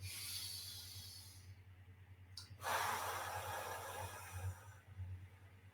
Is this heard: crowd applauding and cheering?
no